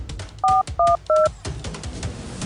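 Three quick telephone keypad beeps sound in a row, clear and close, dialing the fire brigade during a factory fire, over a noisy background.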